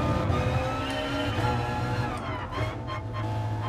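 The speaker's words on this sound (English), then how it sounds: "that's the real life soundbite of the car" A car engine in the racing video game Gran Turismo Sport, a loud, continuous droning hum with steady revving, heard alone without talk.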